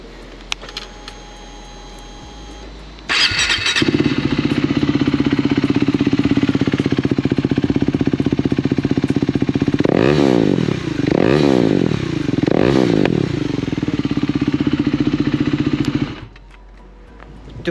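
A new KTM Duke 390 motorcycle, about 2,600 km on the clock, starts up close by, settles into a steady loud idle, then gets three sharp throttle blips before cutting off.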